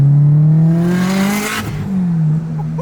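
Tuned Subaru WRX with about 500 wheel horsepower, its engine loud and close, holding a steady idle, swelling through a quick rev with clattering, then settling back to idle, no talking.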